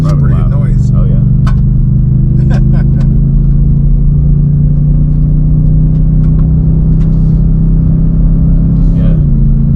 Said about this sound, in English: That's got the cool sound once you get the RPMs up there.